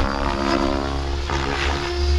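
Mikado Logo 700 RC helicopter flying with an engine-style setup, a loud, steady whine with strong rotor and motor harmonics, close and continuous with slight pitch shifts as it maneuvers.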